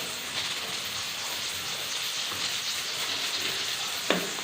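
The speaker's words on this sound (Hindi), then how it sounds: "अब इसके अंदर हम टमाटर डाल देंगे। इनको अच्छी तरह सॉफ्ट कर लेंगे।" Ginger garlic paste frying with tomatoes for a white chickpea curry, a continuous soft sizzle close by with one brief clatter near the end.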